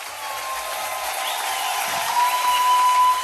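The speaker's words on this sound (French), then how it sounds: "Acclamons pour elle sérieusement." An audience in a church service applauds, a steady wash of clapping heard at moderate distance that runs unbroken throughout, with a faint thin tone and a little crowd murmur beneath.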